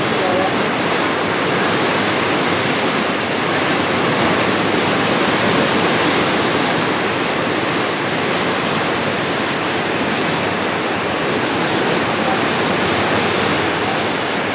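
Water swirls and rushes in at a dam at Ban Nong Bua, a loud, steady, broadband roar that stays constant throughout with no breaks.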